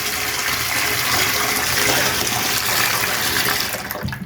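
Water gushing at high pressure through a system run without its filters, a steady, loud rushing flow that thins and sputters toward the end.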